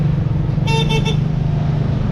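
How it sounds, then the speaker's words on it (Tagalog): An Everest 5-wheel e-bike's electric horn gives a few quick, loud toots in a row over a steady low road hum. "Saka yung busina niya, malakas din."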